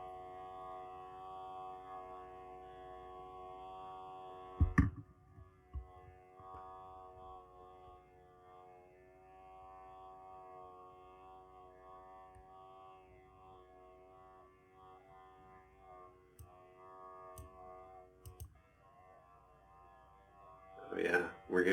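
An electrical hum slowed to ten percent speed becomes a deep, steady harmonic drone like a passing airplane, continuous throughout, with a few sharp clicks and thumps.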